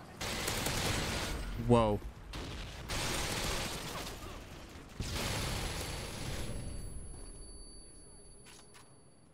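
Sustained M240 machine gun bursts in the 2009 shooter Call of Duty: Modern Warfare 2, loud rapid firing broken by short pauses, with a voice calling out briefly over the shots.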